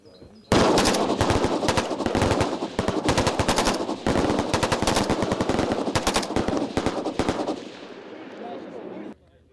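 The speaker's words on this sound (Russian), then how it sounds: "Боевой заряженный автомат Калашникова в руках." Kalashnikov assault rifles firing at an outdoor shooting range in Sochi, dense overlapping bursts of loud sharp shots over about nine seconds that stop abruptly, with voices faintly underneath.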